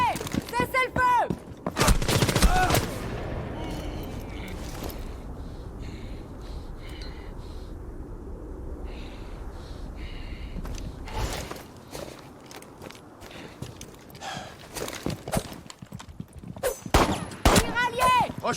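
Bursts of automatic gunfire and rapid shots in the video game Rainbow Six Siege X during friendly fire, loud and dense, with gaps of lower background din in the middle and French game voice callouts among the firing.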